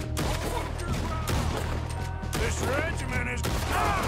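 Rapid gunfire rattles on in the video game Alcatraz, dense bursts of shots mixed with game effects, with voices underneath.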